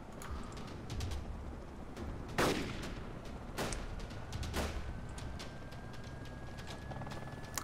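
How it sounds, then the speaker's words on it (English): Scattered gunshots in DayZ, a few sharp loud cracks and some fainter distant pops over a constant noisy background. "A lot of gunfire here"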